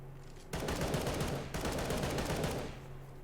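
Rapid automatic gunfire from a Counter-Strike match in a competitive tournament, two loud sustained bursts of quick, crackling shots separated by a brief pause, with no talk over them.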